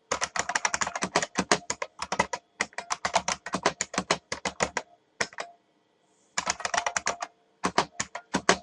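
Fast, close typing on a computer keyboard as a program is entered, dense bursts of crisp key clicks separated by brief pauses, with no voices.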